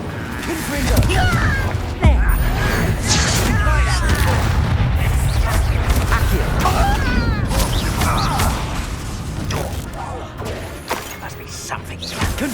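Spell blasts and explosions burst from a Confringo fire spell in Hogwarts Legacy, loud repeated booms and thuds mixed with game effects while a voice shouts spell names over the battle.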